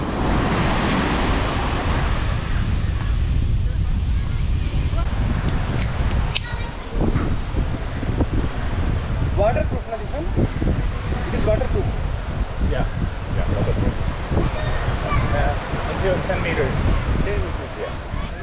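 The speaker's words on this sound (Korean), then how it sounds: "그래도 파도 소리 진짜 너무 좋습니다" Ocean waves rolling in and washing up steadily on a Malaysian beach, a continuous roar of surf with wind noise and faint voices in the background.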